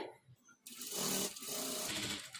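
A sewing machine runs in a steady, fast whirring burst as it stitches fabric for a blouse dori hanging, starting after a brief quiet moment and staying close and even.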